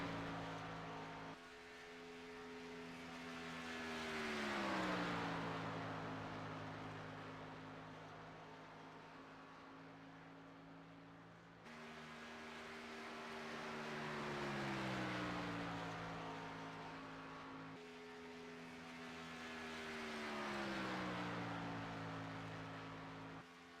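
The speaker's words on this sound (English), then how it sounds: "Next car on track is Anthony M. Calantoni in that beautiful red, white, and blue 84 car" Race cars in a racing simulator game lap a track one after another, each engine droning loudly and then dropping in pitch as it sweeps past, in three long repeating passes with no talk.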